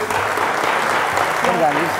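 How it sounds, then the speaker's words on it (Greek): Steady applause from a TV game show studio audience on Wheel of Fortune fills the clip, dense and continuous, with a few voices rising briefly near the end. "ένα χειροκρότημα"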